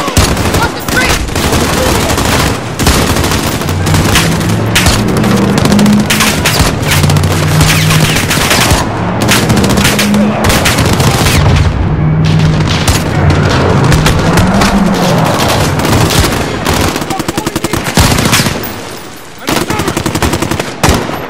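Heavy automatic gunfire in Call of Duty: Modern Warfare rattles almost nonstop for about twenty seconds, with booming shots and dense volleys, while voices shout underneath the firefight.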